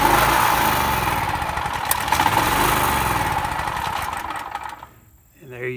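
A portable generator's small engine runs on choke with a loud, close, buzzy rattle that holds steady for several seconds, then falters and drops away near the end.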